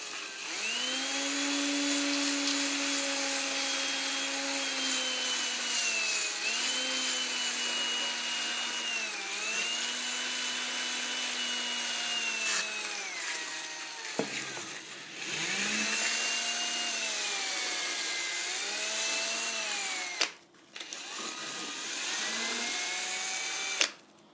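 A wooden model aircraft propeller is sanded in a steady, close whining drone that wavers and bends in pitch, breaking off briefly twice before picking up again.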